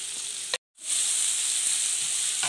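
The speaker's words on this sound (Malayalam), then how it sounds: "എണ്ണ ചൂടായി വന്നിട്ടുണ്ട് ഇതിലേക്ക് നമ്മൾ ചെറുതായി അരിഞ്ഞു വെച്ച് സവാള ചേർത്ത് കൊടുക്കുക" Finely chopped onion hits hot oil, a loud bright sizzle that cuts out for a moment and then returns as a steady, close hiss of frying.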